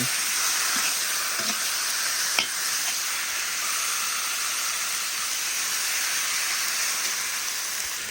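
Meat sizzles and hisses steadily in a hot cauldron over a campfire outdoors, a constant frying crackle with a few faint clinks of stirring.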